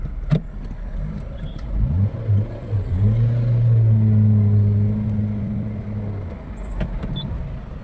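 A hot Hyundai Accent engine idles and is revved unevenly, its low rumble surging and faltering, with a few clicks and knocks around it, close by and without speech.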